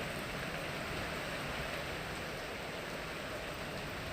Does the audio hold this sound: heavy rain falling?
yes